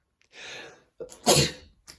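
Close by, a breathy intake builds into one forceful sneeze, followed by a brief soft exhale.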